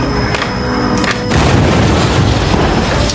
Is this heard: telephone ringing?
no